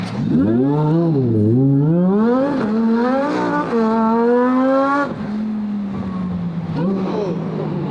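A Lamborghini STO launches hard off the line with traction control off. Its engine screams loudly up through the revs in rising sweeps, with a short break at each gear change, then settles into a steadier drone.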